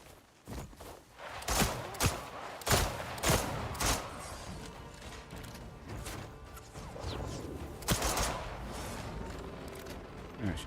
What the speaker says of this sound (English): This is the pistol. Spencer pistol.